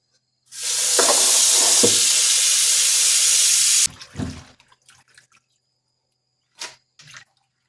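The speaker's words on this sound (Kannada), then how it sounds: "ಈ ಪಾಲಕ್ ಸೊಪ್ಪುಗಳನ್ನೆಲ್ಲ ಕ್ಲೀನಾಗಿ ಒಂದು ಮೂರು ಸಲ ತೊಳ್ಕೋಬೇಕು" Water gushing from a tap for about three seconds, then spinach leaves swished and splashed in cold water with a few scattered sloshes and drips.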